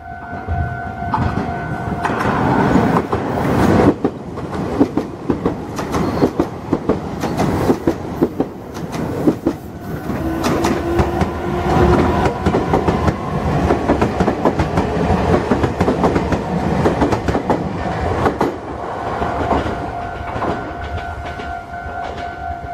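A KiHa 7 diesel railcar passes loudly at close range near Naka station, its engine roaring under a steady clickety-clack of wheels over rail joints, with a brief horn-like tone, lasting over twenty seconds.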